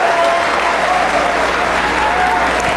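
A wrestling crowd at a Ring of Honor anniversary show applauds in a steady, dense wash of clapping that holds loud and even throughout.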